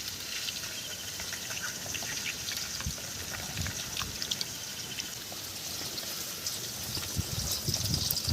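Mung lentils are washed in water, with a steady trickle and splashing, close and continuous, with no talk.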